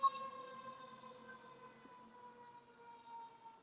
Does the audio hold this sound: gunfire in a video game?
no